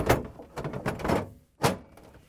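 Samsung refrigerator door swung shut after an ice maker repair, heard as a firm thud near the end, preceded by several close handling knocks and rustles from the bin and assembly being slid in.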